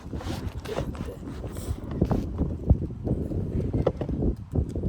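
Gusty wind buffets an outdoor microphone in low, rumbling surges that stay loud and uneven throughout, with occasional sharper thumps.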